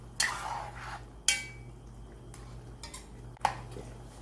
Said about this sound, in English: Just stir this up.